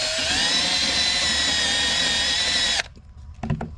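A wire brush scrubs old silicone from a jet ski impeller housing with a steady, bright, whirring rasp for nearly three seconds, then stops, followed by a few faint clicks and knocks.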